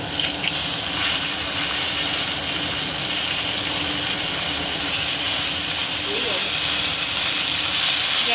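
Bottle gourd greens go into hot oil with already-fried potatoes over a high gas flame, producing a steady, loud hiss of frying that runs unbroken throughout.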